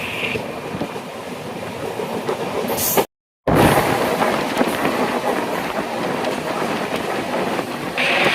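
Ernakulam-Velankanni Express running at speed, heard from inside a second-class carriage: a continuous loud rolling roar with rail clatter and wind buffeting, broken by a short cut of silence partway through.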